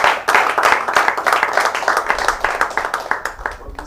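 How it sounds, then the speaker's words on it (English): A room full of people gives a round of applause at a film house event, with dense, steady hand clapping that carries on for several seconds before starting to thin out at the end. "So, a hand of applause for all."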